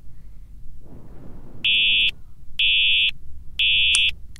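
A fire alarm sounds in three loud, evenly spaced electronic buzzing tones, each lasting about half a second, after a stretch of low background noise.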